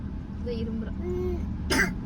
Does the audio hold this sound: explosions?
no